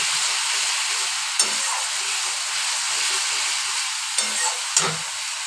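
Fish, a tangra, frying in a pan of cooked-down spice paste gives a steady, close, continuous hiss and sizzle. A few faint clinks sound over it.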